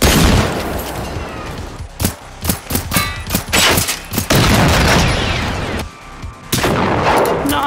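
Rapid gunfire in the Generation Zero shooter, a burst of sharp close shots spaced unevenly over several seconds, loud and dense with echoing booms, no talking.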